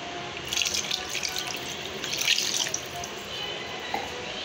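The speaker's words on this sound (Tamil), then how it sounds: "இப்போ தண்ணி ஊற்றியாச்சு" Water splashes and trickles as it is poured into a cooking pot for vada curry, a steady close stream with brief louder gushes.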